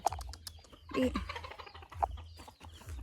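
Chickens clucking close by, a few short bursts of clucks and soft squawks with quiet pauses between.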